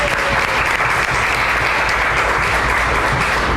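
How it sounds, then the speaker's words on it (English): Audience at a science cafe applauding a Distinguished Service Award winner, a dense, steady burst of clapping throughout, loud and close. "let's give him a round of applause for that"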